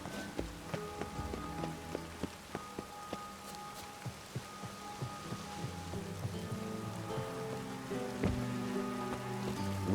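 Rain falls over a city in The Witcher 3, a quiet continuous hiss with scattered distinct drips ticking at a regular pace, growing slightly louder toward the end, no talk.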